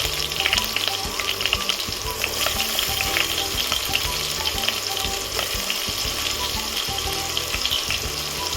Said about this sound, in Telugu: ఆనియన్స్ వేసి కొంచెం మెత్తబడే వరకు ఫ్రై చేసుకోవాలి.